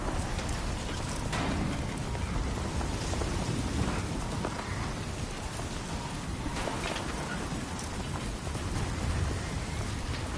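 A storm in Death Stranding 2 produces heavy, unbroken rain hissing loudly on surfaces, with deep thunder rolling underneath throughout and no voices.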